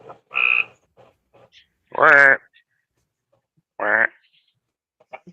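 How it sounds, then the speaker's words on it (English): A frog croaks outdoors in a few loud, separate calls with pauses between them. Some are deep and tonal and one is shorter and higher, heard close and clear against otherwise quiet surroundings. "You got a duck frog out there."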